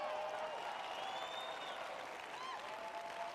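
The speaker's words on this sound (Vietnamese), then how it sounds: "Reo hò tuyệt vời." A large audience applauds and cheers at a business seminar in a dense, sustained wash of clapping, with a few whoops rising over it and no break.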